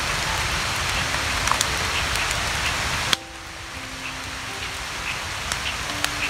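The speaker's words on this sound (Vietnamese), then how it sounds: "Trời đang mưa to lắm rồi." Heavy rain pours in a forest, a dense continuous hiss of drops pattering on surfaces nearby, with an abrupt shift in texture midway and scattered louder drips.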